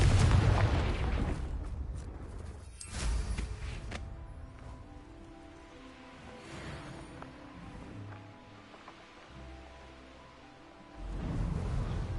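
A Confringo blasting curse goes off in Hogwarts Legacy with a loud, deep explosive boom at the start that rumbles and fades into quieter game ambience before another low swell near the end.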